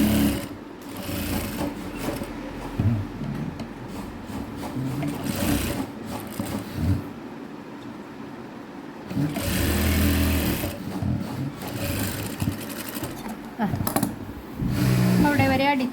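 Sewing machine running in bursts while stitching the collar of a coat, with a steady mechanical whirr that starts and stops, close and fairly loud, with some talk in between.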